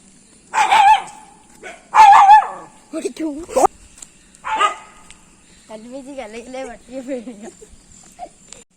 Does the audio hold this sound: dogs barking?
yes